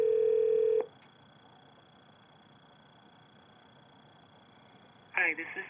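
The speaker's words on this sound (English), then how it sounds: "If someone tries to call you now, they'll go directly to your voicemail after a couple of rings." An office desk telephone in Do Not Disturb mode gives one loud steady ring tone, followed by several seconds of near silence before a voice begins at the end.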